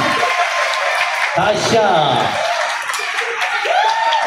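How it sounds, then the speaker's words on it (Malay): A crowd at an iftar gathering claps for a woman being celebrated. The clapping and chuckling mix with a speaker's lively voice throughout. "Berikan tepukan untuk Tasha"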